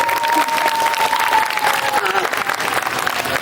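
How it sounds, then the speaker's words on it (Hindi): An audience claps loudly and continuously for students performing a Ramayana play at an Indian-languages cultural event, with dense indoor applause and a few cheers, and faint voices underneath. "तब तक बच्चों के लिए एक जोरदार तालियां सबसे।"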